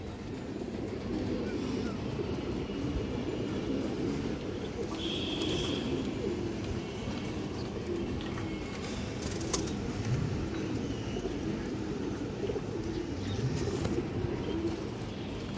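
Long-route racing pigeons coo softly and steadily amid a dense, continuous low murmur of a flock, with a faint chirp and passing car noise in the background.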